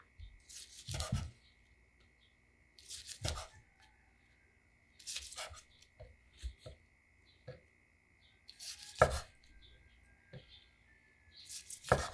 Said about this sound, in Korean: 김밥을 잘 써는 방법은 칼이 잘 들어야 돼요.